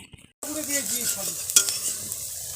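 After a brief pause, fritters hiss and bubble in hot oil, a close steady sizzle with a voice murmuring faintly underneath and a stirring clink.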